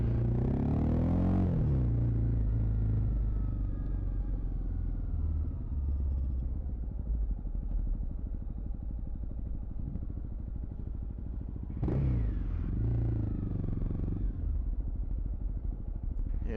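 Honda CRF250L Rally with a new MotoX aftermarket exhaust, idling close by on New Zealand gravel roads: a loud, steady, throaty single-cylinder rumble with two brief revs, near the start and around twelve seconds in.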